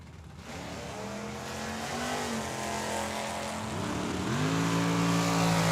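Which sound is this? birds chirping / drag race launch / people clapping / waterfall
drag race launch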